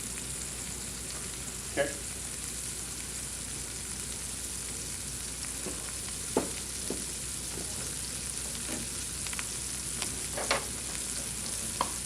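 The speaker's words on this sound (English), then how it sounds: "So we're just gonna saute this until they get just a little bit of color on it." Maize sautés in a pan under a faint, even hiss of frying, with a few sparse ticks and taps from stirring and one brief spoken word.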